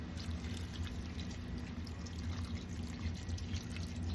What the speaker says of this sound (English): I'm adding a little bit of water to this.